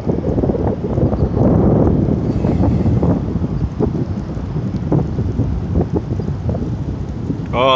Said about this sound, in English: Oh, the wind's picking up now.